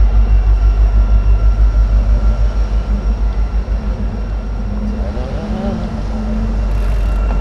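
A low, steady rumble of a train passing nearby, with a continuous mechanical drone and faint rattling that swells slightly toward the end.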